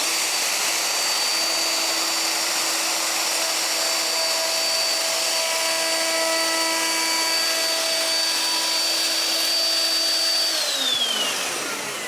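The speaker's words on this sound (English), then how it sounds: "I'll finish this off with the router" A router cutting MDF along a straight edge, with a loud, steady high-pitched whine and motor drone throughout that winds down abruptly near the end.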